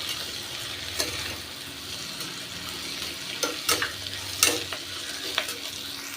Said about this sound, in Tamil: உருளைக்கிழங்கு கட் பண்ணி வச்சுருக்கேன் அதையும் போட்டு நல்லா வதக்கிக்கலாம்